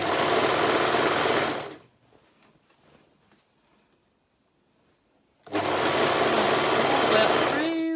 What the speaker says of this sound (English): Work through, keep your seam in line.